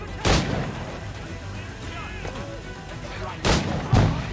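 Gunshots in Assassin's Creed 4 gameplay: a sharp blast near the start, then two more close together near the end, with game ambience and shouting voices between them.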